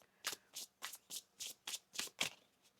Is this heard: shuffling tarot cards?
yes